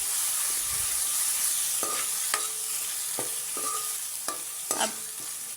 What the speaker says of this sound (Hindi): अदरक लहसुन के पेस्ट डालने के बाद इसको भूनेंगे हम थोड़ा सा ताकि अच्छी सी खुशबू आ जाए।